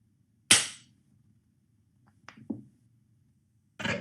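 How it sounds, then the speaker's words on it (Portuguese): A revolver shot sound effect in a stage play: one sharp, loud bang that decays quickly into near silence, followed by a few soft knocks and another abrupt burst at the end. "um estampido de um tiro de revólver"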